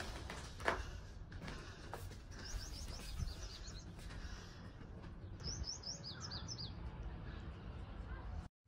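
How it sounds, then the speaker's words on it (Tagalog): Birds chirp and tweet in short bursts of high, quick notes over a quiet outdoor background, with faint talk and low rumble underneath. "Mga huni lang ng ibon ang maririnig mo."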